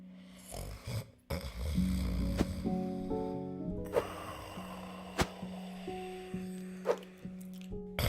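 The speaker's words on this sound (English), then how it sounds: "You hate snoring, Elysian?" A sleeping character in the game Servant of the Lake snores in slow, soft breaths amid quiet game sounds, with faint tonal chimes and occasional sharp clicks, all fairly low in level.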